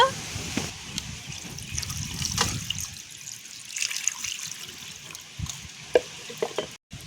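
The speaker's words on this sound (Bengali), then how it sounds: "চিকেনটা আরও একবার ভালো করে জল দিয়ে ধুয়ে নেব।" Running water rinses raw chicken pieces in a kitchen for biryani, a steady trickle and splash with brief louder spills, close by.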